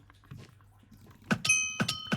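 A machine gun bow fires in a Minecraft Bedwars match, giving a quick run of four or five short thunking shots with ringing hit tones in the last second, close and moderately loud.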